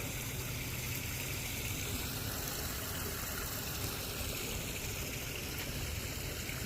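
A garden pond pump sucks air while a hose runs water into a koi pond whose level has dropped six to eight inches, making a steady, continuous rushing and gurgling hiss throughout.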